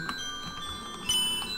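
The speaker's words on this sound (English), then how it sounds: "I have the redo bell, so I didn't technically fail it yet" A chime sounds in Undertale when the redo bell is rung in the puzzle room: bright, sustained tonal ringing that swells near the middle of the short clip and then fades, heard alone.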